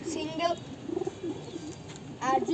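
Pigeons coo in soft repeated throaty calls close by, several overlapping bursts across a couple of seconds, with people talking in the background.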